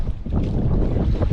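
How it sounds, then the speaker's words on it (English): Strong wind buffets the microphone out on wavy open water during a boat trip, a loud, rough, low rumble that lasts about a second and a half. "Man, it's windy and wavy."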